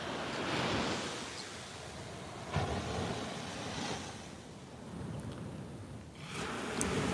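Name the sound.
ocean waves breaking on the beach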